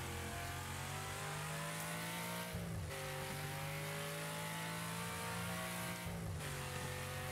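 A video-game car engine revs in a steady, continuous drone, pitch climbing through gear shifts with two brief dips as it lifts off and accelerates again, alone without talk.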